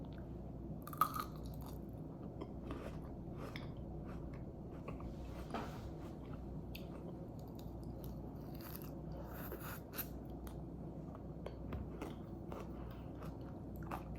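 Homemade lemon tanghulu, candied lemon pieces with a hard sugar coating, bitten and chewed close up with repeated small crunches and crackles over a steady low hum, quiet and continuous.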